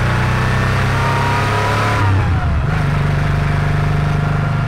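A Porsche 911SC's 3.0-litre air-cooled flat-six, recorded close at the exhaust on a mountain road, drones loud and steady, then briefly dips and rises again as the revs change.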